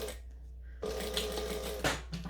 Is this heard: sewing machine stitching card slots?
yes